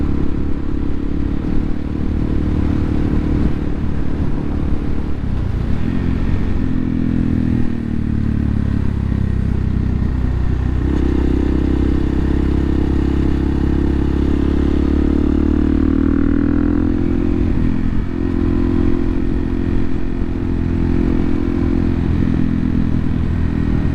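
A supermoto motorcycle rides continuously through local roads, its engine droning loud and close with shifting pitch as it accelerates and settles, wind and road clatter mixed in, no talking.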